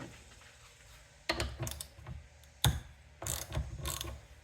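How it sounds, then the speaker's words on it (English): A weed eater carburetor bowl from a Cub Cadet ST 100 wheeled trimmer is worked in a bench vise. Quiet hum, then three bursts of close metallic ratcheting and clicking, with a sharp knock between them. "Might have to stick it in my vise for a second."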